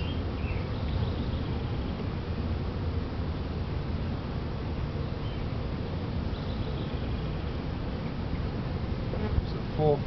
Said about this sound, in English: Full frame of bees.